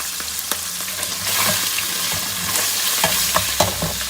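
Chopped green chillies land in hot oil with cumin powder for mutton pulao, raising a loud, continuous, bright sizzle broken by the clatter of stirring.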